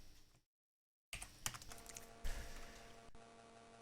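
A computer keyboard sounds with a brief run of quick, close key taps as a command is typed to launch the game Elite, heard after a short silence and against faint background hum.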